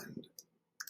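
A few light keyboard clicks, sparse and quiet, come as separate taps with gaps between them, after a brief murmur at the start.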